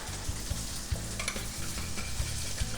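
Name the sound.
stirring dressing of lemon juice, salt, pepper and sugar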